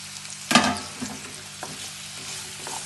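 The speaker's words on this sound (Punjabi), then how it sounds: "ਆਪਾਂ 2 ਮਿੰਟ ਹੀ ਇਹਨਾਂ ਨੂੰ ਨਾ ਮੂਲੀਆਂ ਨੂੰ ਤਲਾਂਗੇ ਬਸ ਹੁਣ ਆਪਾਂ ਇਹਦੇ ਵਿੱਚ ਹਰੀਆਂ ਮਿਰਚਾਂ ਪਾ ਦਾਂਗੇ" Radish pieces and green chillies fry in a pan for a pickle, a low sizzle punctuated by a sharp burst of scraping and a few softer stirring scrapes, close by and without talking.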